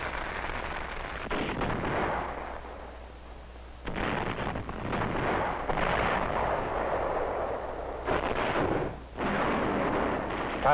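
WWII battle on Saipan, 1944: a continuous roar of artillery and gunfire with booming blasts rising and falling across the clip, distant and muffled under wind noise.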